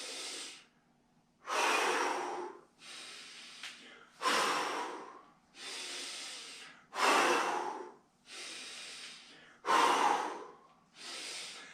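Workout breathing drill with about eight strong, rhythmic breaths, forceful exhales alternating with inhales, close and clear with short quiet gaps between them.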